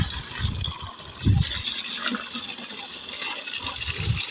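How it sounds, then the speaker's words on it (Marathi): A solar-powered farm water pump running, with water gushing and splashing out of the pipe in uneven surges. The flow is close and moderately loud, with no talk over it. "त्यातनं मी सोलार मोटर चालू करणार आहे. आता आपली मोटर चालू झाली आहे."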